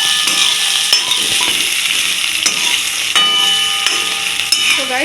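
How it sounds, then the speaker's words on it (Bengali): Mixed vegetables for chowmein sizzle in hot oil, with a bright constant hiss, punctuated by scrapes and clinks of a spatula stirring the pan. "এবার সবজিগুলো আমি ভেজে নেবো"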